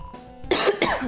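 A single person gives two quick harsh coughs in close succession, loud and near, after a brief quiet moment.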